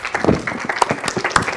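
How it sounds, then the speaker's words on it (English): A lecture audience claps for a guest speaker at a marine life course event, a short burst of scattered, fairly close hand claps lasting under two seconds. "How about a round of applause for Dr. Peter Ross?"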